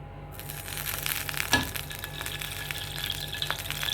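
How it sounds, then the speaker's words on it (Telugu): Mint leaves fry in a little oil, giving a steady, moderate sizzle and crackle close by, with a few faint stirring clinks and one brief sharper scrape. "కొంచెం నూనె తీసుకోండి సరిపోతుంది అంతా పుదీనా వేసేసుకుందాం ఇందులో"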